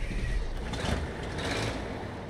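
A military truck engine in SnowRunner starts up, a dense, steady diesel rumble with a broad roar that holds loud and continuous throughout, with no talking over it.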